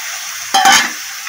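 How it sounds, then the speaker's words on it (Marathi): Washed karandi, small dried shrimp, drop into a hot pan in a Konkan village kitchen with a sudden brief burst of sizzling that flares then fades within a second, loud and close. "धुवून घेतलेले आहे चांगली करंदी त्यात टाकतोय आपण"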